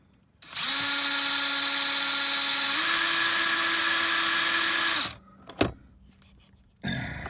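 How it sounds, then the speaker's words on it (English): An electric drill whines at a steady high pitch for about four seconds while boring a small hole in a Toyota's interior for a sensor wire, its tone rising slightly partway, then stops, followed by a few clicks and rattles. "so I'm just letting the drill do its work"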